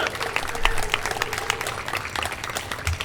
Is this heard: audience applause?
yes